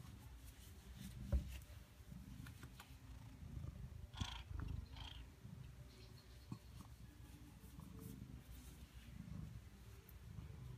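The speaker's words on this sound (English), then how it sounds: "I don't know if you can hear the purr." A cat purrs as a low, steady rumble, faint and close, with quiet rustling and occasional soft bumps.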